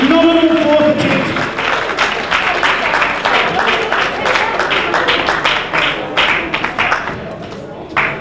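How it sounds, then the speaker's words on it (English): Audience at a 2002 powerlifting nationals applauding a fourth attempt, dense sustained clapping from a crowd with an announcer's amplified voice over it at the start. "Let's have a huge round of support. Applause, please, for a phenomenal fourth attempt."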